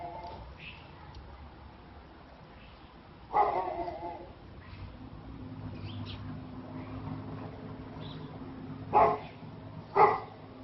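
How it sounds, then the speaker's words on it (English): A dog barks off in a neighbouring yard, a few sharp barks standing out of a low outdoor background, one around the middle and a quick pair near the end, moderately distant. "Listen to the dog barking,"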